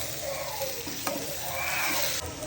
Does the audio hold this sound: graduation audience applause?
no